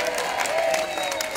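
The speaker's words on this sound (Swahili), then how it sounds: "Sasa ningetaka tupigie makofi Mama County mwenyewe Esther Passaris tukisimama" A standing crowd claps for Esther Passaris at a live public gathering; dense, brisk applause fills the short moment, with a faint tonal ring over it.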